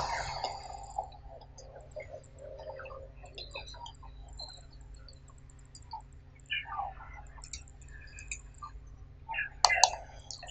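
A computer mouse clicks while a logo is designed in CorelDRAW, giving soft scattered clicks at an uneven pace, with a sharper burst near the end and faint voices in the background.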